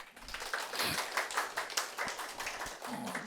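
A lecture-hall audience at a Korean civil service exam prep class in Noryangjin claps: a short burst of fairly close, uneven handclaps with a voice briefly audible alongside.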